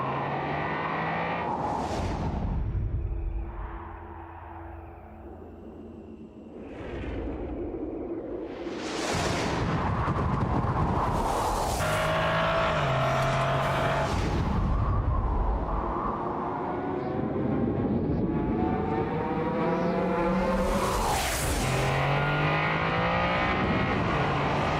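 Turbocharged 1.6-litre inline race cars in a GT esports racing game, with engines revving and sweeping past in repeated loud whooshes, rising and falling pitch between gear shifts.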